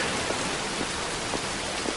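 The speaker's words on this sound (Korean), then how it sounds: "이렇게 그질그질 비가 오냐" Steady rain falls throughout in an even, dense hiss, close and continuous, with no voices over it.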